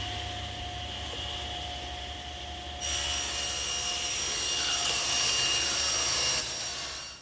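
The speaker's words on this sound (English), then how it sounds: "now I'm going to rip it on the table saw" Table saw ripping a sheet of plywood for a bookcase, a steady rising whine with a louder cutting rasp partway through that holds and then eases as the board clears, close and continuous with no talking.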